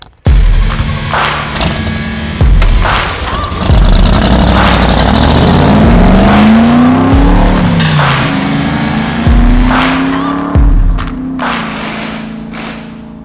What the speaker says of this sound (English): I'm gonna pour some fuel down the carb and we'll see if it fires up